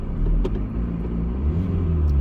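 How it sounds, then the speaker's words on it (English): A car engine with a hole in the muffler rumbles and revs in deep, throaty surges with a rough, blatting exhaust note, close and loud. "Listen, I'm gonna rev up the motor."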